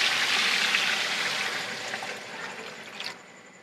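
Water poured into a cooking pot for a rosh recipe, after ground cumin goes in; a steady splashing pour that starts loud and eases off over a few seconds, with no talk.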